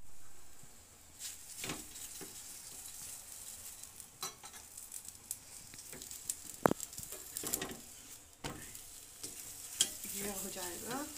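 A bathua paratha frying in a pan, giving a soft, quiet sizzle with scattered scraping and tapping sounds from turning or pressing it, close by and without talk.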